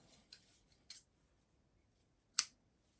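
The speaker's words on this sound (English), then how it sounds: "Then I can just unthread it and cut it off." Scissors snip sewing thread off knitting, a couple of faint soft sounds followed by two crisp, close cuts about a second and a half apart in an otherwise quiet room.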